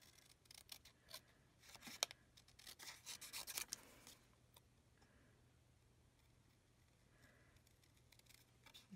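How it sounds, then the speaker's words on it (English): Scissors snip through paper while a template for a gatefold card is cut out, quiet close crisp cuts bunched in the first four seconds, then near silence with faint rustles. "And I'm just going to cut that out."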